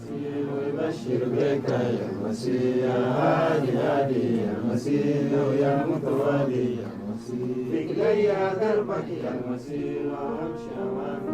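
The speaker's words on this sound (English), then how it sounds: "These are people gathered together singing praises to a Jesus they knew nothing about only months before." A group of voices sings worship songs together in a sustained, swelling melody, steady and fairly loud throughout, like a congregation in full song, in Africa.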